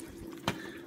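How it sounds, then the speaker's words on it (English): Water from a garden hose rushes through the heater core of a 2003 Mitsubishi Montero Limited, a faint steady trickle and hiss at close range with one brief splashy surge and no talking. "I'm actually flushing and back flushing using a heater hose right here."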